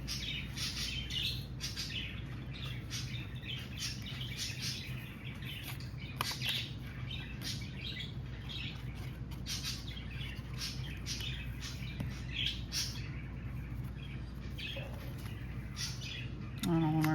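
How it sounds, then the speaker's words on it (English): Busy chirping and squawking from several pet birds indoors, constant and fairly close, over a steady low background hum. "I don't know what my birds are chattering about."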